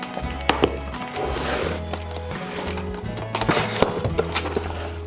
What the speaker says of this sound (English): Oh, you hear that axe singing.